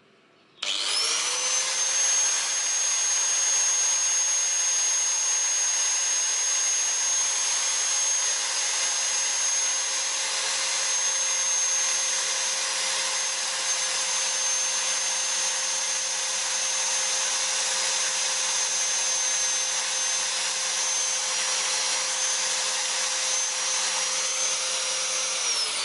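An RSG 100-3 angle grinder spins up at full speed, about 11,000 RPM, with no load. It gives a loud, steady, high whine that starts abruptly and holds constant for about 25 seconds, with no talking.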